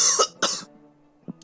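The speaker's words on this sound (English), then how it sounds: "I just had to cough." Two quick coughs close together, near and fairly loud, then a softer single cough a moment later.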